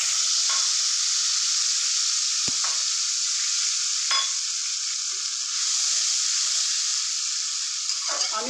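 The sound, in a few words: cinnamon, cardamom and spices sizzling in hot oil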